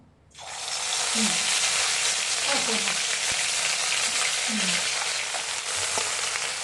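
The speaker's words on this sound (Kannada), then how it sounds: "ಚಂದ ಎಣ್ಣೆಗೆ ಹುರ್ಕೋಬೇಕೇನು ಚಂದ ಬೇಯಬೇಕು" Spices fry in hot oil in a pan for chana masala. A loud, steady sizzle starts abruptly and carries on throughout, close up, with a few faint scrapes of stirring underneath.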